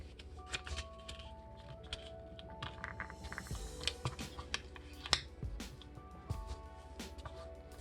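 Paper being creased and folded by hand into a paper airplane, a quiet run of soft crinkles, scrapes and sharp taps scattered across the clip with no talk.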